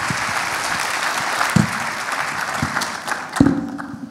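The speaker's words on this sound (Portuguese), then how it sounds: "Pedir uma salva de palmas aqui para os nossos investidores aqui," A panel audience at a startup pitch event applauds the investors with full, steady clapping that thins out near the end, marked by a couple of louder thumps.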